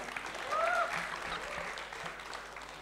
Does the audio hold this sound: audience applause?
yes